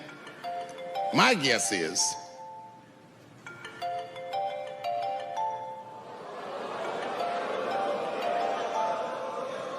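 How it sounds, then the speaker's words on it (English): A mobile phone rings out with a melodic electronic ringtone in the audience at a comedian's stand-up comedy show, several bright tone phrases over murmuring crowd noise and talk. "Go on and answer your phone"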